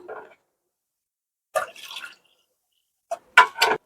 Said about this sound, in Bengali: গরম জল লাগবে, এই জলটা এর মধ্যে আমি ঢেলে দিচ্ছি।